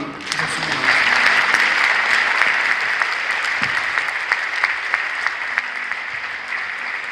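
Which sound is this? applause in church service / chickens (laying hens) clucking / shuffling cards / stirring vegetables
applause in church service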